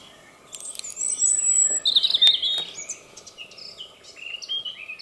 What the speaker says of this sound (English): the bird song, just glorious, just continues all the time